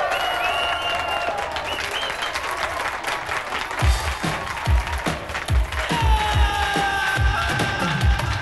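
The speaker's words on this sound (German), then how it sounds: "Empfangt also meine lieben Freunde mit viel Applaus." A large audience gives loud, sustained applause with some cheering to welcome a band onstage, dense clapping throughout with rising bursts and low thumps in the second half.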